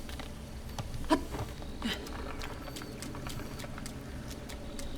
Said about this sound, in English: it's still raining, I'm just less afraid of the rain.